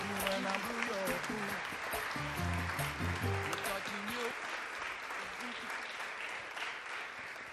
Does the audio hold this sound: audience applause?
yes